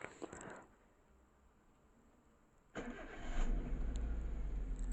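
A car engine is cranked and catches after a TPS sensor replacement, with a brief starter whir, a quiet pause, then a sudden start settling into a steady, slightly rough idle close by.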